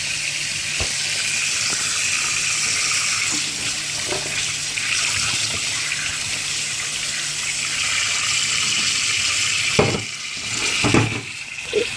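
Tap water runs steadily into a sink while fish and vegetables are washed, a continuous close gushing stream with a few louder splashes and clatters near the end.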